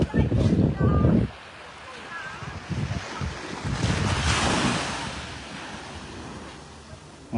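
Surf rolling onto Surin Beach in Phuket, Thailand: a steady wash of waves with strong wind buffeting the microphone, loud at first and then a softer continuous roar.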